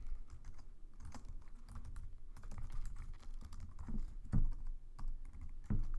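Steady typing of Java code on a computer keyboard, close, irregular clacks and key taps with a few heavier thumps, continuous throughout.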